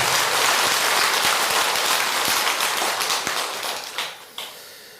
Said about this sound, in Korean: 그럴 때는 박수로 대답을 해주세요.